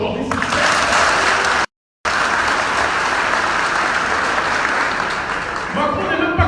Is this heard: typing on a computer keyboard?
no